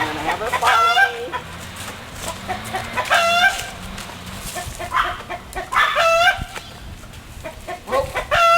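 A hen clucks and cackles loudly in a sequence of rising, squawking calls near the listener, with short pauses between bursts, as she does when laying an egg.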